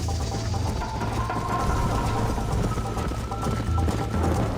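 Horse hooves pounding in a steady, rapid galloping rhythm over a continuous rumbling background, from the video game Red Dead Redemption.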